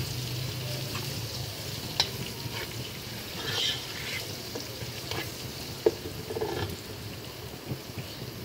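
A steady sizzle of ginger garlic paste frying in a hot pan, with occasional stirring scrapes and a few pops, continuous and close, no talking.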